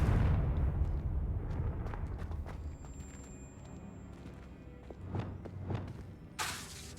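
The Confringo spell is cast in Hogwarts Legacy, sending out a series of dull blasts and thumps. They are fairly faint and scattered over a low rumbling bed.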